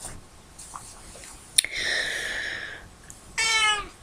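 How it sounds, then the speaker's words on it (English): A domestic cat meows twice at close range, a drawn-out, wavering call followed after a short pause by a louder, sharper one, with faint room noise in between and no talking. "If you hear meowing, it's just my cat Duchess."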